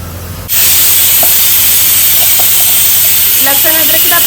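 A mixer grinder grinds garlic and ginger, bursting on abruptly into a loud, steady high-pitched whirring roar that holds constant, with faint voices speaking underneath.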